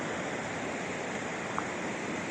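Steady, loud rushing of water at low tide near a waterfall, a dense, even roar that holds through the whole stretch with no voices.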